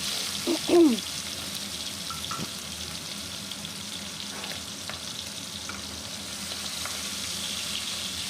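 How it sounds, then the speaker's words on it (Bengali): Prawns rubbed with salt and turmeric fry in hot oil, giving a steady, fairly quiet sizzle throughout, with a few brief stirring clatters near the start. "এখানে চিংড়ি মাছকে ভেজে নিচ্ছি"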